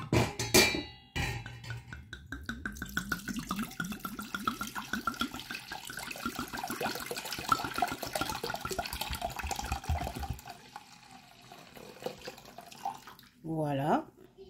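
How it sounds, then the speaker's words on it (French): Mulled wine pours from a bottle into a cocotte pot in a long steady splashing stream, close and fairly quiet, ending with a brief gurgle. "Donc là, je vais donc verser mon vin."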